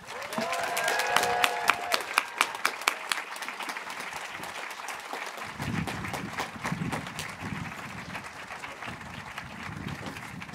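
Audience at a college commencement applauding graduates, sustained clapping from a large crowd that starts with distinct sharp claps and swells into a dense, continuous ovation.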